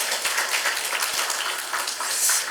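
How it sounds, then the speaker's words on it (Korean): A church audience at a Thanksgiving service claps together in a brief, moderately loud round of applause, with a few sharper low thumps among the patter. "한 번 더 박수 부탁드리겠습니다."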